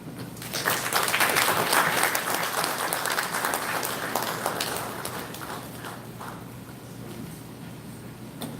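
A lecture audience gives a sustained round of applause after the presentations, loud and full at first, then gradually fading into softer scattered claps.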